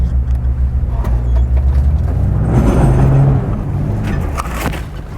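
4WD vehicle wheels turning slowly during an off-road recovery pull, with a low engine rumble and gritty crunching from the tyres swelling in the middle, close and fairly loud, no talk.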